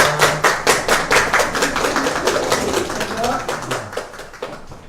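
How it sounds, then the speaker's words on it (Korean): Applause at the close of a live police broadcast segment, with a small group clapping in a quick, rhythmic patter that starts loud and close and gradually thins out, with voices heard alongside. "큰 박수로 보내드리겠습니다"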